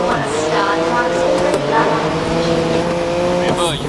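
Race cars at the start of a race in the Grid 2019 video game, engines revving loudly with rising harmonic whine and a brief tire squeal, under a steady voice talking over the action.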